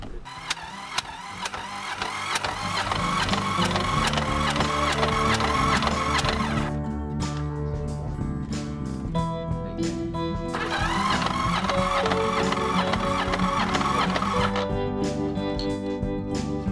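A Yamaha motorcycle engine is started and held at full throttle during a repair, a loud continuous drone that rises and shifts in pitch with a few revving changes over about sixteen seconds, no talk heard.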